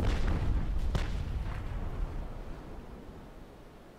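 A cannon volley booms out in a naval video game battle against a cutter, a few heavy blasts in the first seconds rolling into a long, rumbling decay.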